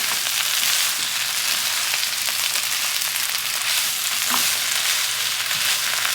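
Spinach wilted down in a pan sizzles and fries steadily while being stirred, a constant close hiss with faint scraping.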